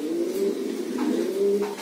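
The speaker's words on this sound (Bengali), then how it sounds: "যেমন ধরেন আমার এই রেসার কবুতরগুলো" Racing pigeons coo close by in a steady, rolling low call, with the breeding hens nesting to lay eggs. The cooing runs throughout with no talk over it.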